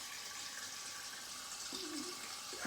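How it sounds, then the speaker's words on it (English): Water runs and rinses over a freshly razor-shaved head, a soft, steady wash of splashing and trickling, faint and close, with a brief louder splash near the end. "water on the head."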